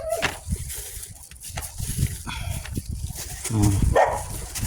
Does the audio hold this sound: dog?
yes